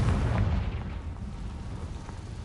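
A Confringo fire spell explodes in the Hogwarts Legacy video game, giving a loud, deep boom with a rumbling blast that stays heavy throughout before slowly easing off.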